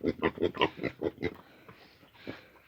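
A Vietnamese pot-bellied pig boar on a farm grunts in a quick rhythmic series of about eight close, loud grunts, then trails off into faint snuffling.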